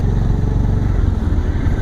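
A Honda CB350 motorcycle engine pulling steadily in third gear while riding, a loud, continuous low throbbing exhaust note with a fast even pulse and no pauses.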